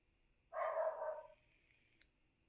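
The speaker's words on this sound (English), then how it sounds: "My dogs know it's almost time to come in." Dogs waiting outside to be let in give one drawn-out bark or howl at moderate distance, followed by a brief sharp click, then quiet.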